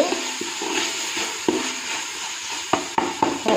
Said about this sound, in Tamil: இங்கே பாருங்கள் தக்காளி வந்து நல்லா ஃப்ரை ஆகிடுச்சு